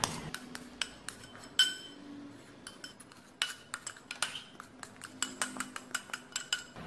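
A tablespoon scoops gac fruit flesh from a bowl in a steady run of close, light metallic clinks and scrapes, with quieter pauses in between.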